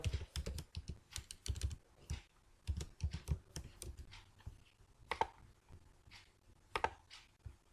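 Typing on a computer keyboard while writing Python code, heard as close, crisp bursts of key clicks in uneven clusters with short pauses between them.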